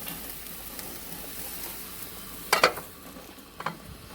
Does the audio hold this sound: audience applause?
no